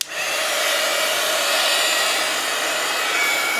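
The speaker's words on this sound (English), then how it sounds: "I'm going to dry that before I put the words on." A handheld dryer blasts warm air over wet matte gel medium on a craft project, switching on abruptly and holding a loud, steady, close-up whoosh with no speech.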